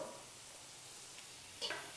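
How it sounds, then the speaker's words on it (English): Onions cook in a pan with lemon juice added, giving a faint, soft, steady sizzle with a small stirring scrape near the end. "I want to go straight in there with the lemon juice because it's going to start to cook those onions"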